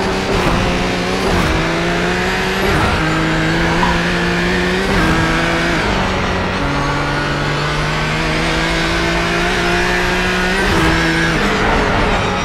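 Renault Sport R.S.01 race car at full throttle around the Nürburgring Nordschleife, its loud engine howling steadily through repeated gear changes, pitch rising and dropping in a close, continuous onboard roar.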